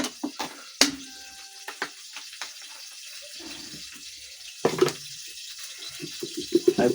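Kale leaves are rinsed with clean water, intermittent splashes and water handling sounds, fairly close with quiet gaps between bursts, no talk.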